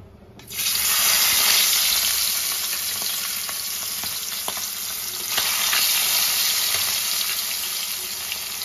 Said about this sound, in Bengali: তেলটা ভালো করে গরম হয়ে গেছে, এবার মাছগুলো দিয়ে দেব।